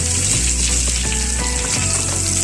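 Curry leaves hiss and sizzle in hot coconut oil while tempering a Kerala ash gourd pachadi, a loud, steady crackling fry close up with no talking.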